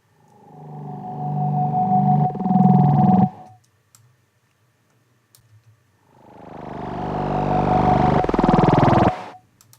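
Two sustained, buzzy synth tones from a vocoder's built-in distortion effect, each swelling and growing harsher before cutting off abruptly, separated by a few seconds of near silence.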